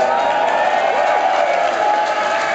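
A concert audience at a show at The Academy in Dublin claps and cheers in a dense, steady wash of sound that stays loud for the whole stretch, with no talking.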